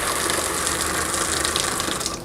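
Pink antifreeze gushes hard from a valve on a Jayco Jay Flight travel trailer being winterized, a loud, steady, splashing rush of liquid that continues without a break.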